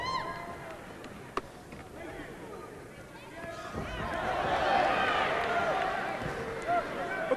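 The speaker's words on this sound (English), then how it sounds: "Well, the crowd reacted to that kick" A martial arts crowd reacts to a high hook kick, a swelling roar of voices rising midway and holding at moderate loudness amid arena ambience.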